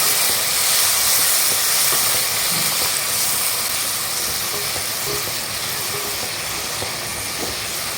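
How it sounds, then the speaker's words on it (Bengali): Spice paste frying in a pan for a Bengali katla fish curry, giving a steady, loud hiss and sizzle that runs throughout with no talking. "তো এটাকে একটুখানি আমি কষিয়ে নেব"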